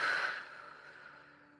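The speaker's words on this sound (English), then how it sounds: "Breathing in and out through either the nose or mouth in a continuous and rhythmic experience." A single slow, breathy exhalation during rebirthing breathwork, loud at first and then fading gradually. It is close and airy and sounds alone without any talk.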